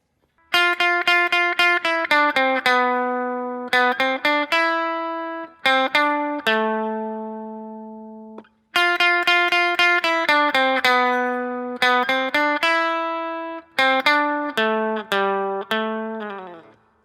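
A guitar plays a song as clean plucked notes and repeating riffs, each note ringing and decaying, with a short pause midway before the phrase repeats; close, bright and alone with no talking.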